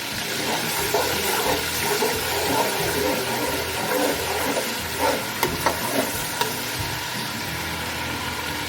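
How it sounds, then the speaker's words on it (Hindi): Whole cumin, red chili and salt frying in a pan for a biryani, giving a steady close sizzle with scattered crackles and a few sharp pops near the end, with no talking. "तो थोड़ा सा हम भून लेंगे"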